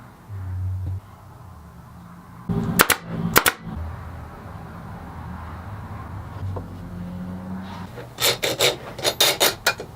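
Clamps being tightened on a wood glue-up for a figured-wood brochure holder, rapid ratcheting clicks and rasping bursts in short clusters, with some handling bumps between them and no voices.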